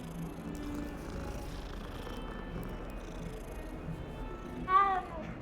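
A cat in the video game Hogwarts Legacy purrs softly and steadily, with a short meow near the end, all faint under a low game ambience.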